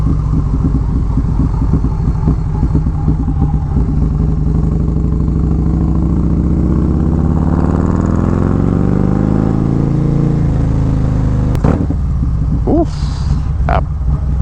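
A Harley-Davidson performance bagger motorcycle with an aftermarket exhaust pipe revs. Its deep, throbbing engine rises and falls in pitch through a couple of throttle swells, then settles into a steady, close, loud rumble.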